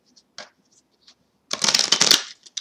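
Tarot cards are shuffled close up in one quick riffling burst, preceded by a few light card taps and handling sounds.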